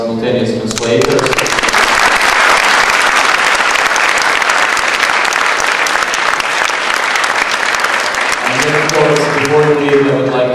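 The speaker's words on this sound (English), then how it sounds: "first I would like a huge applause for our simultaneous translators" Loud, dense applause from a round-table audience for the simultaneous translators, sustained for about nine seconds, with a voice speaking just before it starts and again as it fades.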